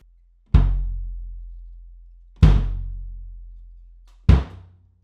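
Three deep, boomy hits on a bass drum with no front head, struck with a felt beater, spaced about two seconds apart, each with a punchy attack and a long low resonant decay.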